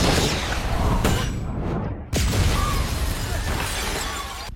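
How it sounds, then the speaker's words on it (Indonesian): A film scene has a loud explosion at night with glass shattering, a dense crashing burst, then a sharp second impact followed by ringing, scattered debris and a sustained roar. "Ledakan menghantam langit malam, kaca bergetar, tapi Perry selamat."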